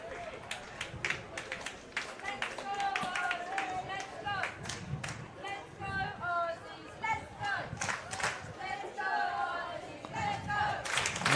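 Spectators at a Pararoos para football match against Thailand cheer, clap and call out, a moderate crowd murmur with bursts of shouting and whistles over which a commentator talks.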